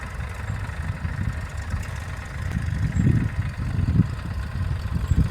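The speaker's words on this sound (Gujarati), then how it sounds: "પ્રોફેશનલ ટ્રેક્ટરથી ખેતી થઈ રહી છે અત્યારે" A professional tractor works a farm field, its engine a steady low rumble that swells slightly midway, heard from a moderate distance.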